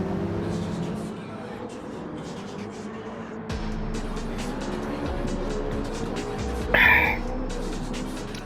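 Race car drifting through a corner in Gran Turismo 7 on a wet track in a McLaren race with a new tyre compound, a steady engine drone with a sharp tyre squeal burst near the end, under a talking voice.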